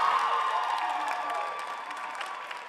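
Steady applause with some cheering from the audience at a spring university gospel choir concert, praising a choir singer, a continuous wash of clapping that fades slightly toward the end.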